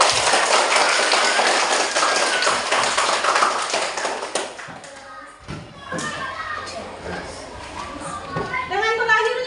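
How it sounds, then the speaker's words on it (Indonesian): Classroom applause from a group of schoolchildren, dense broadband clapping for about four seconds that then thins out into scattered claps, taps and children's chatter. "Tepuk tangan."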